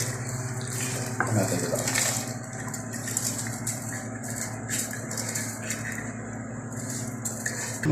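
Boiled rice being stirred in a cooking pot for chicken biryani, with scattered metallic scrapes and clinks of a utensil against the pot over a steady background hum.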